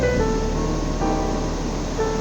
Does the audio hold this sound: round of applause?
no